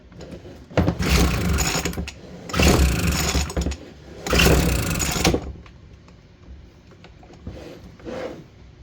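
A vintage Aquascooter AS-500 two-stroke water scooter engine with a new carb kit sputters in three rough bursts of cranking and brief firing, each a couple of seconds long, followed by fainter attempts, loud and close.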